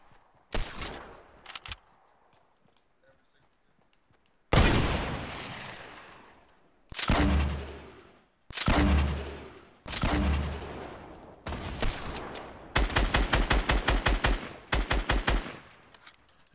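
Bursts of automatic weapon fire in Fortnite Battle Royale, loud and close, with long sustained volleys and a final rapid run of evenly spaced shots between short pauses.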